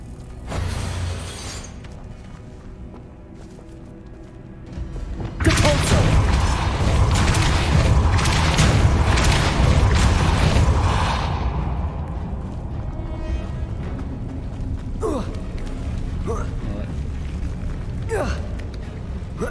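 Confringo blasting-spell explosions in the Hogwarts Legacy video game, with a sharp shattering burst followed by a sustained loud crackling rumble that slowly fades, then a few lighter magical zings and clicks.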